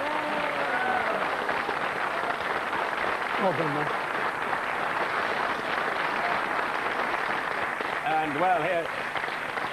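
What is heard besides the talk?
TV studio audience applause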